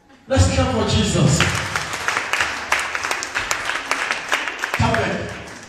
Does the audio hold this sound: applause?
yes